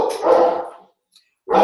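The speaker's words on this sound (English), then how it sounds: "my dog's barking at somebody" A household dog barks twice, fairly close and loud, with a short silent gap between the two barks.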